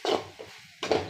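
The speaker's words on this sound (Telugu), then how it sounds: "తిప్పుకుందాం." Tomatoes and ivy gourd with salt get stirred in a pan, giving two short scraping bursts against the metal with a quiet gap between them.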